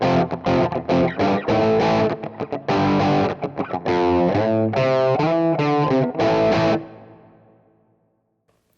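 Electric guitar through a Fractal Super Lead amp model with Marshall cabs, a distorted, overdriven tone playing a run of sustained chords and single notes, loud and up front before ringing out and fading to silence.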